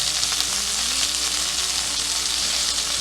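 A New York strip steak pan-sears with rosemary, a steady loud sizzle of fat and oil filling the whole stretch with a faint low hum beneath.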